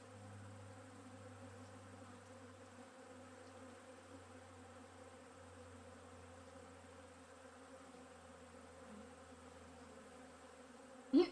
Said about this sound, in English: those are digger bees